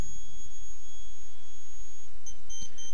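Satellite antenna alignment beeper on a Surfbeam 2 terminal holds a faint, thin steady high tone with a brief break near the end, over a low background rumble.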